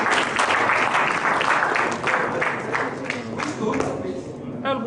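Audience at a plenary session breaks into a loud round of applause for a student, dense clapping filling the whole stretch and fading slightly toward the end, with voices talking over it.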